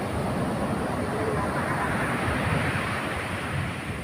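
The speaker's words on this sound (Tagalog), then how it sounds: "Malakas na sobra alon." Strong ocean surf pounds the shore at Zambales during a typhoon, a continuous loud roar of crashing waves mixed with gusting wind buffeting the microphone.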